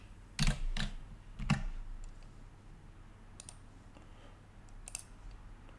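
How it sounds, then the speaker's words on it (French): A few faint, sparse clicks of keys being typed on a computer keyboard in a quiet room, with scattered quieter taps after the first burst. "Je vais taper slash."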